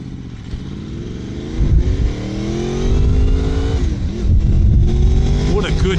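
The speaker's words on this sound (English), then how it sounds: "What a good sounding motor." A VTEC sport bike engine revs hard and accelerates close by, its rising harmonic whine climbing loudly through the gears with brief dips between pulls.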